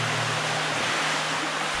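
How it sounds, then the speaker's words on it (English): Water flows steadily in a shallow stream, a continuous close rushing wash with no distinct splashes standing out and no voices. "I'm sorry if it's kind of noisy, the flow of the water and me splashing around the water."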